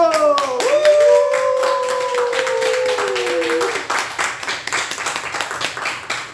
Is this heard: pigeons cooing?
no